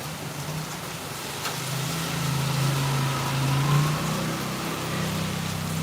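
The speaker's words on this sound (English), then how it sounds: "Looks like it's still raining pretty steady, but it's not so hard." Steady, moderate rain during the rainy season in Phnom Penh, a continuous even wash of noise with a low engine-like hum running underneath and no speech.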